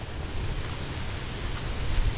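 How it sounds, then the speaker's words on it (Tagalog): Strong wind gusts steadily in an outdoor spot among tall coconut palms, a broad continuous rush and buffeting with low rumble, rising slightly toward the end. "sobrang lakas ng hangin"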